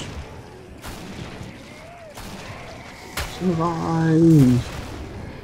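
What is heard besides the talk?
shotgun gunfire in video game Killing Floor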